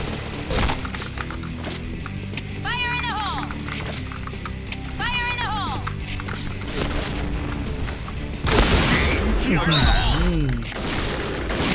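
Gunfire from an L115A1 sniper rifle in the game Point Blank, with heavy booming reports and thuds under continuous game sound and music. Someone talks throughout.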